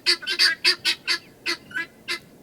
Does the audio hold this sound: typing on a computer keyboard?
no